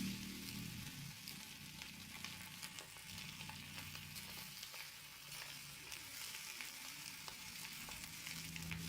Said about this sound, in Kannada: ಈಗ ಚೆನ್ನಾಗಿ ಮಿಕ್ಸ್ ಮಾಡ್ಕೊಳ್ಬೇಕು.